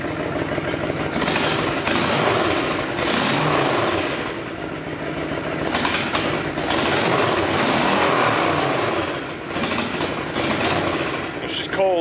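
Honda VTX motorcycle with a drilled-out exhaust, running cold inside a garage, a loud deep idle with small blips and swells, close and continuous, with someone talking over it at times.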